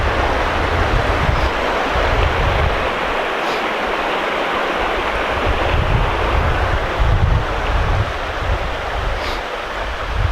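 River water flowing in a continuous loud rush, a dense steady wash close by with wind noise on the microphone and no talking.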